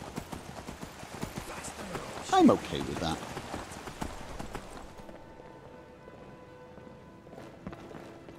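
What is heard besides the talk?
horse hooves clip-clopping while riding, from video game Skyrim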